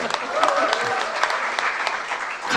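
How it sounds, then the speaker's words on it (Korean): Brief applause from an audience at a party leadership debate for a candidate, moderate clapping with a few sharper claps over a short stretch. "우리 정운천 후보 박수."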